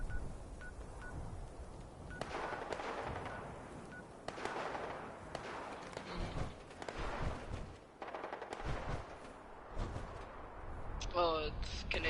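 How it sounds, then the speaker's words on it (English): Bursts of rapid gunfire crackle in Fallout 76, sharp repeated shots and volleys scattered over steady background noise, with a short electronic beeping near the end. "I can hear gunshots."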